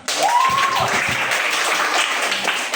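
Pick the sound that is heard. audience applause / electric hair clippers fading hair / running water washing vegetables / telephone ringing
audience applause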